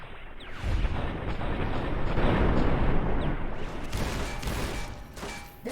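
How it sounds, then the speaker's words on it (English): A missile explodes in Fallout New Vegas, bursting into a sustained rumbling blast that swells and then fades, with a few sharp cracks near the end, heard at moderate distance. "Man just threw a frickin' missile at me."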